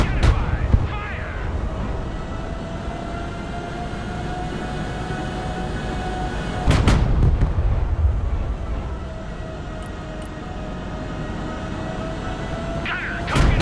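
Artillery and gunfire in the war video game Broken Arrow, heavy booming blasts at intervals over a low rumbling battlefield, with voices talking between the shots.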